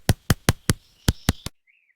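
A woodpecker drumming on a tree trunk in a park: seven sharp, evenly spaced knocks over about a second and a half, then quiet with a faint chirp.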